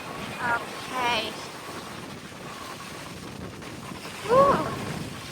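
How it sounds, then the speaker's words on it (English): Strong wind buffets a handheld phone microphone beside choppy water waves, a steady broad rushing roar throughout, with a brief excited voice and a couple of short whoops rising above it. "The wind is very strong."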